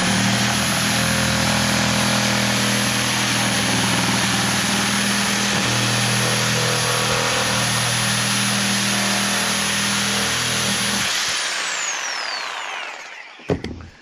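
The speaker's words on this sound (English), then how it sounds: "another great way is to use your reciprocating saw" Reciprocating saw cutting through plastic drain pipe for a French drain, a loud steady buzzing whine held close up for about eleven seconds, then winding down and stopping with a final clunk.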